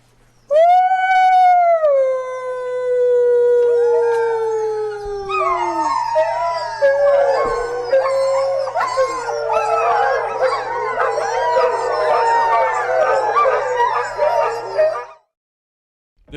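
Iditarod sled dogs howl, one drawn-out rising and falling howl joined by a loud, layered chorus of howls and yips from many dogs close by.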